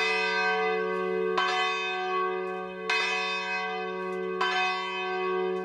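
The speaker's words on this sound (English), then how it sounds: "The bells herald a new day at St. John's" Church bells ring at the Benedictine monastery and college community of St. John's, with three loud, resonant strikes spaced evenly apart. Each long, humming tone rings on and overlaps the next.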